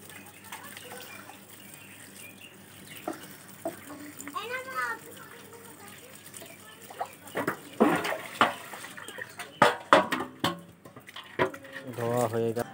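Leafy greens are swished and rinsed in a basin of water, with soft splashes and trickling that grow busier toward the end, under intermittent talking nearby.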